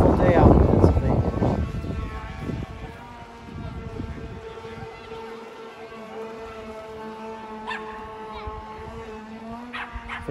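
A Traxxas Blast RC boat's motor runs on open water on a lake in Pennsylvania, a steady electric whine that is loudest near the start and fades as it moves about, with wind noise throughout.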